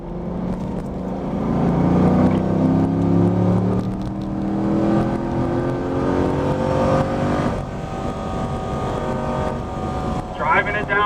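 A Camaro or Corvette on the Spring Mountain Motorsport Ranch track, its engine note sweeping up and down as it slows under braking, with an instructor talking over it.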